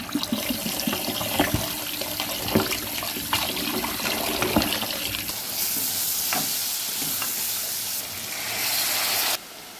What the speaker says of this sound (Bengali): এদিকে আমি মাছটা বেলায় ক্লিন করে ধুয়ে নিই